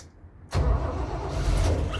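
A 1976 Toyota FJ40 in Dune Beige, a US-model truck, cranks and catches, its engine bursting into a loud, rough, steady idle that carries on close by without any talk.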